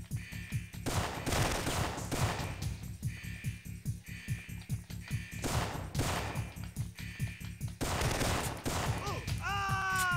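Gunfire rattles in rapid repeated bursts in the video game Syphon Filter 2, set in a Siberian prison, loud and continuous under a droning game soundtrack.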